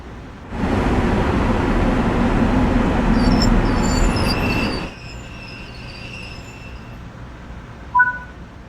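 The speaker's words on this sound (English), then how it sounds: "An emergency brake has occurred, and the train is now coming to a stop." In the Train Sim World 5 video game, a train brakes to a stop with a loud rushing roar and hiss that cuts off sharply midway, leaving a quiet low hum with a brief squeal near the end.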